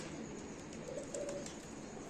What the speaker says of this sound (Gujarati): ને મિત્રો આ તડકાના કબૂતરા જો ખાલી તમે